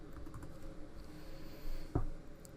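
Soft, quiet keystrokes from typing on a computer keyboard patter in a short run, ending with a slightly louder key press.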